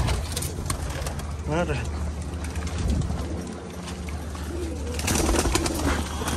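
A caught blue-grey male pigeon coos close by, brief soft calls mixed into background noise while someone talks.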